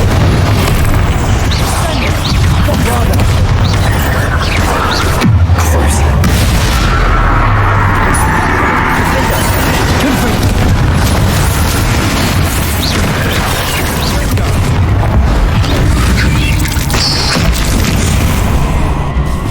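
Loud booming blasts from the Confringo fire spell in the wizarding game Hogwarts Legacy, heavy repeated explosions and crashes rolling through a noisy combat scene, with a player speaking between them.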